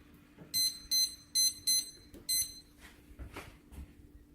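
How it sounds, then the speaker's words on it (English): Oven timer beeps while being set for stuffed bell peppers in a home kitchen: five loud, close electronic beeps in quick succession, followed by quieter handling and kitchen clatter. "Set the timer for 30 minutes."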